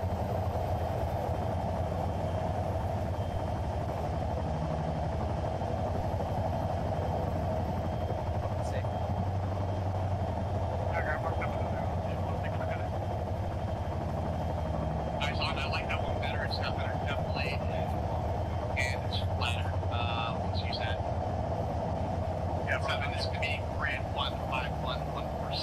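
Blackhawk helicopter engine and rotor in ArmA 3, a steady loud drone throughout with low rotor thrum, while voices talk over the radio in the background.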